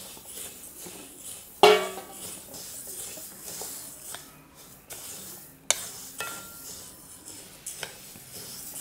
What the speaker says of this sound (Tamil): சூடானதும் மல்லியை ஃபஸ்ட்டு நம்ம வறுத்து எடுத்துக்கலாம்